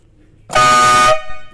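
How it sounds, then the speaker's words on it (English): A single loud horn blast from a Land Rover Defender 110 200Tdi with electrical faults, lasting about half a second, close by, cutting off abruptly with a brief ringing tail. "That's how the horn works."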